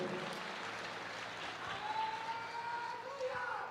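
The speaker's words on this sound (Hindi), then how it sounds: "ताली बजाओ परमेश्वर के लिए जोर से।" A church congregation claps loudly together, a dense, continuous wash of applause that carries on steadily throughout.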